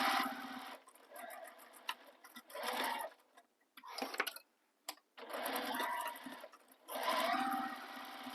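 A sewing machine runs in repeated bursts while stitching across the top of a fabric crossbody bag, with short pauses between runs and faint clicking.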